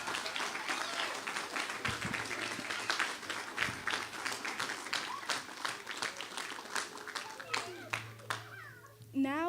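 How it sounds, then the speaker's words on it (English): Audience applause rings out after a children's Christmas program performance, a dense stretch of steady clapping that thins toward the end as a few voices and children's chatter come through. "please give another round of applause for a wonderful performance this night"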